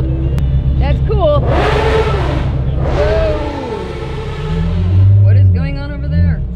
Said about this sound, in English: Someone's smacking a rev limiter.